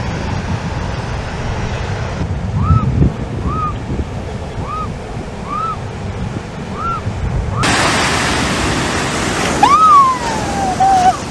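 Surf rolls onto the shore at Myoli Beach in South Africa's Garden Route, a continuous wash of breaking waves heard close, with wind buffeting the microphone and a few faint bird calls.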